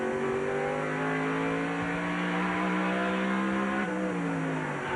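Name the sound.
NASCAR race car engine at full throttle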